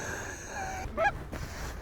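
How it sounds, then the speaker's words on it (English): A hunter blows a goose call in an Alberta field, giving a short burst of two or three reedy honks after a stretch of low outdoor background, fairly close but not loud. "You don't blow a goose call."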